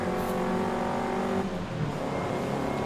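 An old-school Datsun engine in Forza Horizon 5 drones loudly and steadily, with a layered tonal hum close up and a slight dip midway before picking back up.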